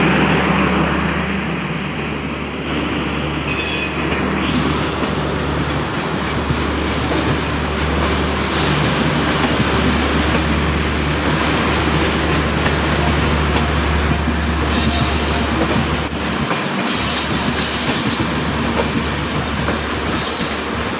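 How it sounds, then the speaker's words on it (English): The 13109 Dhaka–Kolkata Maitree Express, hauled by a WDM 3D diesel locomotive, rolls into Dum Dum Junction with a loud, steady rumble, rhythmic clickety-clack of wheels over rail joints and occasional high wheel squeal. "Diesel locomotive WDM 3D, Howrah."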